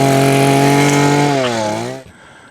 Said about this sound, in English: pretty pleased with how this is trimming these Yopon back from the trail